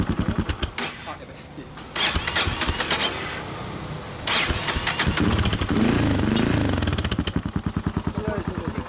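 A 1990 Yamaha SRX400 single-cylinder motorcycle with a loud aftermarket exhaust starts and runs close by, its rapid thumping firing pulses rising and falling with throttle blips, while people talk over it.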